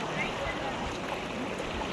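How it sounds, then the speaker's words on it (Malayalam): The Kaveri river near Dubbare in Coorg flows past in a steady, close rush of water with no breaks, and a voice talks faintly over the current. "കാവേരിയിൽ നിന്നും ഉത്ഭവിച്ച് വരുന്ന നമ്മുടെ കാവേരി നദിയാണിത്"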